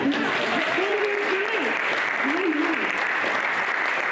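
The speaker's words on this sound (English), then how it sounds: "Yeah, clap!" An audience claps steadily through a speaker series evening, a dense, even wash of applause from start to finish with a voice briefly heard over it.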